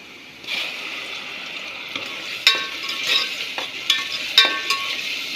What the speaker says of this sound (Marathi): हे चांगलं पाणी सुकेपर्यंत छान परतून घेऊ